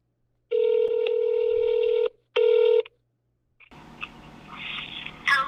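A phone rings on the line as a long electronic tone, then a shorter second tone, followed by a steady hiss of line noise.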